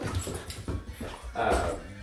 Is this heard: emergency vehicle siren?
no